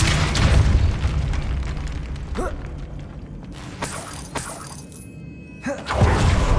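A Depulso spell is cast in Hogwarts Legacy, giving loud shattering booms and bursts over a dense, rumbling game soundscape, with several sharp impacts spread through the scene.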